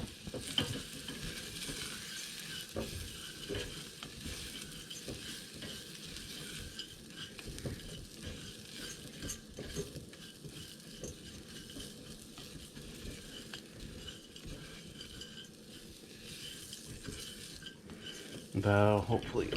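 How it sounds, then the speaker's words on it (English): Oats toast in a pot as a spoon keeps stirring, giving a steady soft sizzle with scraping and clinking of utensil against metal throughout, ending in a louder knock. "I'm just going to add the oats first. Just kind of toast them up a little bit."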